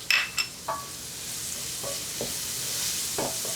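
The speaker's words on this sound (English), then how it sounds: "that's when it's time to add the garlic" Garlic hitting a hot pan while cooking pasta, giving a soft steady sizzle after a few sharp clinks of utensils against the pan, with occasional stirring scrapes, close and fairly quiet.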